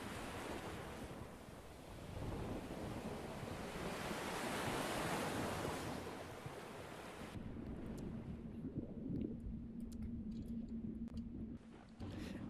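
Storm wind and crashing waves in the online game Creatures of Sonaria during a thunderstorm, a loud continuous roar of surf and gusts that thins partway through, leaving a lighter rush with a faint tonal hum.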